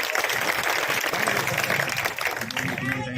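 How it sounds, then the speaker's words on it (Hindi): A crowd claps at an outdoor political rally for a ward election meeting, a short burst of dense applause mixed with voices and crowd noise, fading slightly near the end. "सबसे पहले तो भाई चाहत ध्याना के लिए ताली बजाने का काम"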